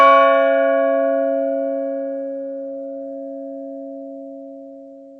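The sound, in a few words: convent church bells ringing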